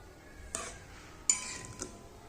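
A spoon clinks a few times against a pan of home-style egg curry (anda masala), with three sharp metallic taps spaced apart over a quiet background.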